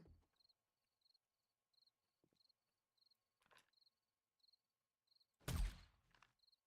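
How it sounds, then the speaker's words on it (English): Crickets chirp at night in the survival game 7 Days to Die: short, evenly spaced chirps repeat steadily at a moderate distance, then a sudden loud crash cuts in near the end. "Crickets."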